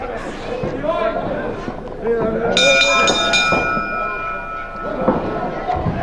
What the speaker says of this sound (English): In fact, Rocco was very nearly out of trouble without the help of the bell then